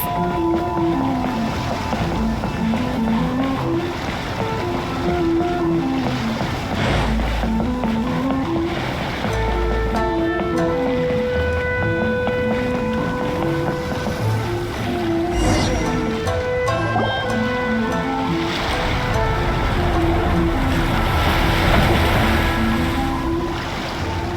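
Waves and wind wash over a continuous boat rumble as it arrives at docks in a video game, with game music tones and occasional voices layered on top, steady throughout.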